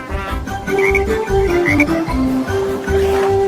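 Cartoon-style frog croaks repeat rhythmically over a bright children's nursery-song melody, loud and close.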